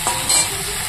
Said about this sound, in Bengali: এবার আমি জল দিয়ে দেবো। জলটা দিয়ে দিলাম